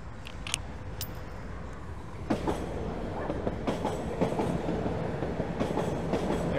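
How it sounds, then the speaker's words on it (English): A train rolls past over the rail crossing in Toronto, a steady rumbling wash with rhythmic clacks and sharp metallic clicks of wheels over track joints, loud and continuous throughout with no talking. "I think we're about to catch a train going by."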